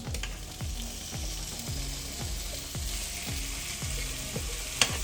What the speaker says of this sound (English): Now I'm gonna pour my gravy in, and I've poured out the excess oil.